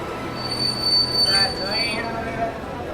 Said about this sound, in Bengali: ট্রেন জাংশন স্টেশনে এসে পৌঁছল।